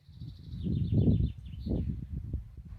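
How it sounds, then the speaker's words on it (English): Faint, distant birdsong: thin high chirps and short trills drifting in over a low, rumbling background. "perhaps you're hearing the birds in the distance."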